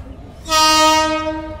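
A Vande Bharat Express train arriving at Jangipur Road station sounds a loud, sustained horn blast lasting over a second above a low rolling rumble, close and dominant, with faint background noise before it.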